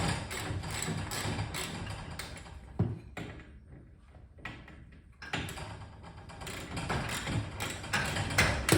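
A springwinder tool tightening garage door spring cables onto their drums gives a continuous mechanical grinding and ratcheting, loud at first, easing to a quieter stretch in the middle, then building again, with no talking.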